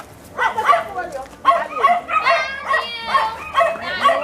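An old dog gives a run of yips, barks and whimpering howls, close and repeated in bursts, with voices mixed among the calls.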